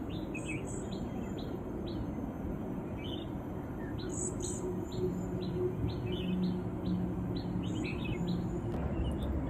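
Short, high bird chirps repeat in quick clusters over a steady low background hum, fairly faint and with no voices.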